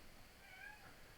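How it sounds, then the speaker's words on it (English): A house cat meows once, faint and distant in the background of an otherwise quiet room, no talk. "I don't know if you can hear my cat meowing in the background."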